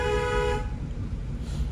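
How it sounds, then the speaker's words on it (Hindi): A car horn gives one steady, loud honk lasting about half a second, then cuts off and leaves low road and engine rumble. "हॉर्न।"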